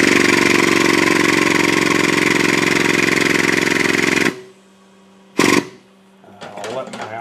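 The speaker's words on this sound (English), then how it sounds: "We're going to operate our hydraulic pump till we get pressure." A hydraulic pump on a balanced drive cutting system runs with a loud, steady motorized drone for about four seconds, then cuts off, followed by a short burst and quieter clatter.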